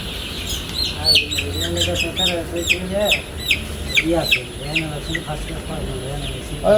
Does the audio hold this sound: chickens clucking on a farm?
yes